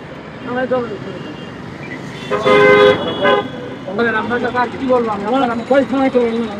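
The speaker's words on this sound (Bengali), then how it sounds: "গাড়ি আসতেছে বাবা হ্যাঁ আসতেছে" A motor vehicle draws near on a road, its horn tooting in short bursts amid traffic noise, while voices talk close by throughout.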